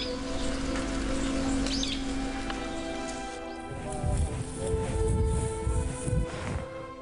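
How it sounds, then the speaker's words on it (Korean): Birds chirp and sing beside a small pond along a walking trail, their calls fairly faint over a steady watery hiss, with rustling and louder background noise in the later seconds. "새소리 앙증맞은 작은 연못이다."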